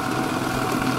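An electric mixer whisking a mixture onboard a sailing boat, a steady close motor hum and whir with no pauses, no talk.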